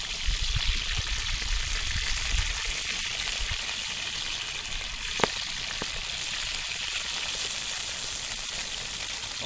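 Fish frying in salt and oil with no breading, giving a steady broadband sizzle and crackle that runs the whole time at even loudness, with one brief sharp pop partway through and no voices.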